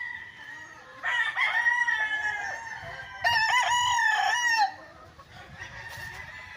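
Fighting roosters and breeding hens on a farm lot in Pagsanjan, Laguna, with two loud crowing calls close by amid softer clucking.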